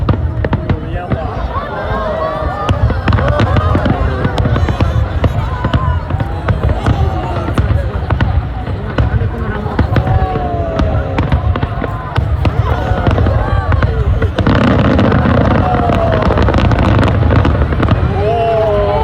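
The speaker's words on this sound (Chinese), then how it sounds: "有烟花。" Fireworks at the Adachi fireworks festival in Tokyo boom and crackle continuously, loud and dense with rapid bursts and whistling trails, while a crowd murmurs and people nearby talk.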